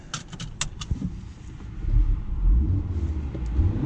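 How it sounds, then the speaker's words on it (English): A 2018 Audi RS3 Sportback on a very cold day: a few clicks and rattles, then the engine catches and settles into a low, rumbling exhaust burble close by, with no talk. "Let's start it up. Nice burble there."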